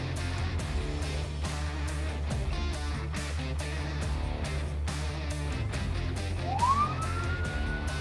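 A police car siren wails loudly and continuously as the cruiser chases a red-light runner, its cycling tone rising into a sharp upward sweep near the end.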